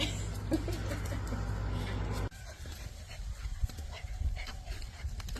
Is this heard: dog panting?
yes